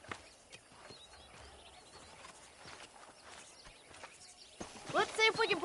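Horse hooves in Red Dead Redemption, soft clip-clop steps under ambient game sound, with a burst of bright, whinny-like tones building near the end.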